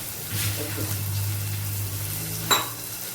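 Curry leaves and garlic frying in hot oil in a pan: a close, steady hiss of sizzling with a low hum beneath and a sharp clink of utensil near the end.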